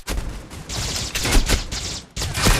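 Rapid bursts of automatic gunfire from the mobile shooter game Critical Ops, loud and close, with several sustained volleys separated by brief pauses and a final burst after a short gap.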